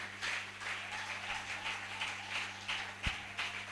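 Church congregation applauding through a lively service, steady broadband clapping with a sharper clap near the end, mid-distance and fairly loud, no talk over it.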